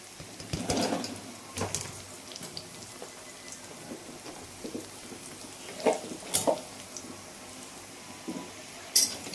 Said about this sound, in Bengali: পেঁয়াজ রসুনটা ভাজা হয়ে এসেছে